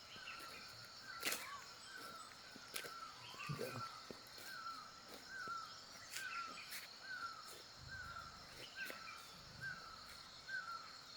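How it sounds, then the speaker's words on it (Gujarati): Faint birds chirp in short repeated calls against a quiet hilly riverside backdrop with a steady insect-like hiss, no talking. "પક્ષીઓના કલરવનો અવાજ."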